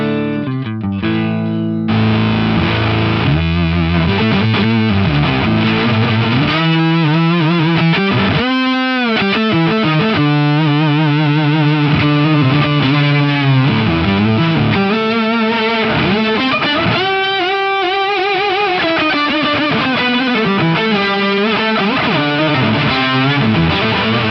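An electric guitar plays through Pitch Fuzz distortion and an SP2016 reverb, thick, buzzy sustained notes and bends with octave-like fuzz and a lush wash of ambience, loud and continuous without talk.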